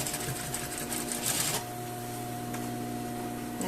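A sewing machine stitching a garment seam with a rapid, even motor whir and needle chatter, running steadily and then easing to a softer hum.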